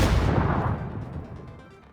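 A grenade goes off in the battle royale game PUBG, a single heavy, booming blast that rolls and fades away over about two seconds.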